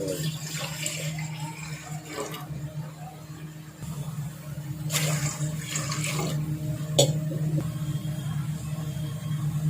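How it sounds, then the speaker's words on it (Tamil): Water poured into a pot to boil amla (Indian gooseberries) runs as a continuous, moderately loud splashing stream with a few sharper splashes along the way. "அதுக்குள்ளே தண்ணி ஊற்றுறோம்."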